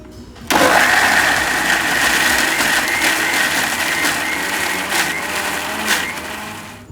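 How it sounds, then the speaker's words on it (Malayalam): A mixer grinder blends sautéed onion and tomato into a paste, starting abruptly and running as a loud, steady high-pitched whir for several seconds before easing slightly near the end. "നേരത്തെ നമ്മൾ വഴറ്റി വെച്ചിരിക്കുന്ന ഉള്ളിയും ടൊമാറ്റോ ഒന്ന് മിക്സിയിൽ അരയ്ക്കാം"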